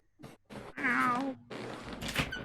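A house cat meowing to be let out, close by: a few short calls followed by a longer, drawn-out wavering meow and a final brief cry.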